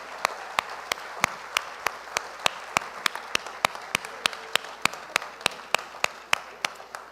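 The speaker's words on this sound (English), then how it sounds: "Victory Davao, can we just give our mothers a mighty round of applause?" A church congregation's applause for mothers during a live service, coming through as a steady run of sharp, evenly spaced claps, roughly three or four per second, moderately loud over a quiet room.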